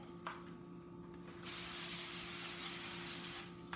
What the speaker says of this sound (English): Put a little spray on here.